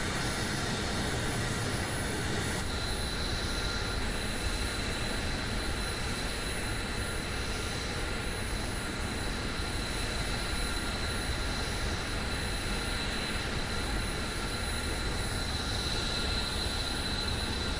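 Twin jet engines of a Top Mach F-22A Raptor model aircraft roar at a steady, loud, unbroken pitch, thickening slightly as the second engine comes online, with a high whine laid over the broadband rush.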